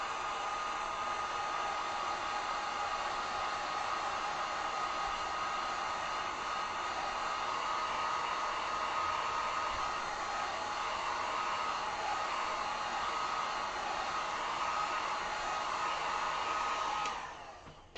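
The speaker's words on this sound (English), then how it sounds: "hit this with the heat gun" A heat gun drying acrylic paint blows a steady, even hiss of air for about seventeen seconds, then cuts off abruptly near the end.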